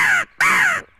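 A handheld crow call imitates a crow's caw: two loud, harsh caws sounded alone, the second longer than the first, with a short gap between them.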